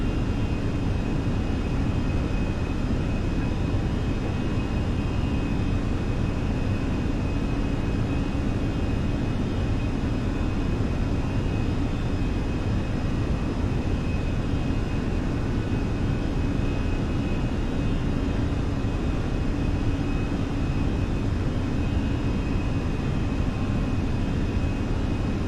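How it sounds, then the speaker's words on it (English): An Airbus A320 airliner is hand-flown on approach in Microsoft Flight Simulator, with a steady, loud engine and airframe roar that continues unbroken throughout. "We're just hand flying the aircraft at this point."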